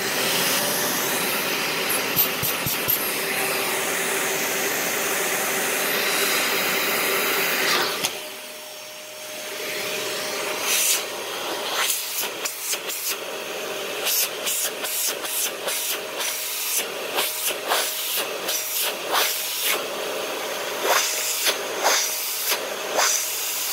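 A 2013 Dyson DC41 Animal Complete upright vacuum runs with a loud, steady whirring roar, then drops abruptly about a third of the way in to a quieter hum broken by repeated clicks and knocks.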